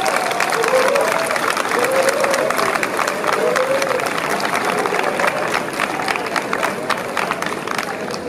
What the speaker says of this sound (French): je vous demande vraiment d'applaudir très fort le président Alassane Ouattara